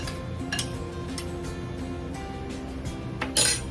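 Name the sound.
mixing lemon juice into peach cobbler filling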